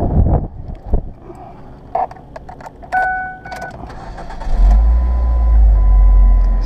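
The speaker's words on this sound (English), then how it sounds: "So let's start up the car." 2005 Ford Focus estate engine starting, heard from inside the car: clicks and key jangles, a short starter crank, then the engine catches into a steady low idle, close and clear.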